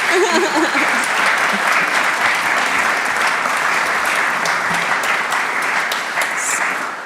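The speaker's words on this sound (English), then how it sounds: "A big round of applause for our panelists." A large audience at a workplace democracy panel gives the panelists a sustained, loud round of applause, dense and even clapping filling the room without a break before easing slightly at the end.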